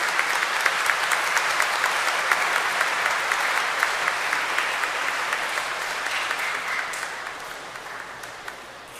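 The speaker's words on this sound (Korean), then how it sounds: "큰 박수로 새 사제들을 맞이해 주시기 바랍니다." A large crowd gives sustained, loud applause in a church as 32 newly ordained Catholic priests are welcomed at a 50th ordination anniversary celebration, dense clapping that stays steady before tapering slightly at the end.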